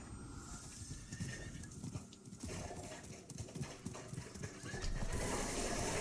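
A horse in the Diablo IV video game neighs while its hooves clop in a quick steady rhythm, set against a busy, fairly quiet game soundscape without speech.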